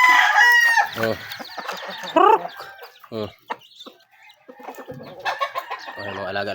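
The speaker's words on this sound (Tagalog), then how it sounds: "Alaga nating mga sisiw." Pet chicks chirp and cluck in bright repeated calls close by, mixed with rooster-like crowing and clucking from the flock, while a person briefly speaks between them.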